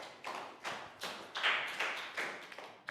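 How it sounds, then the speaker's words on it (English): A small group of Year 3 pupils claps for a classmate in a classroom, producing about eight loose, uneven bursts of close hand claps rather than a steady roll. "Big round of applause for Nadia."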